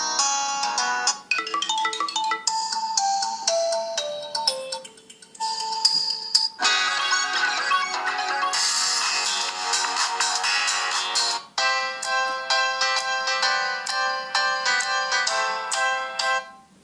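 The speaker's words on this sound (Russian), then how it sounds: "Вот, ребят, так, звук рингтона." An Infinix Zero 8 phone plays its ringtone through its built-in speaker: a bright, tinny electronic melody that runs continuously in phrases for over fifteen seconds, loud and near, with no talking.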